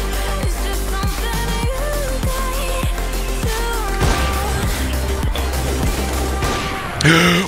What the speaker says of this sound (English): I actually shotgunned him